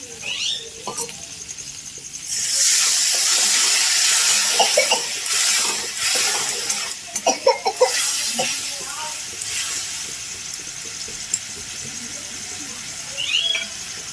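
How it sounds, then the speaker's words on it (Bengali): Water pours into a cooking pot of chicken for ghugni in a loud, rushing hiss lasting several seconds, framed by clinking and a brief second splash later, with a voice speaking around it. "একটু জল ব্যবহার করবো"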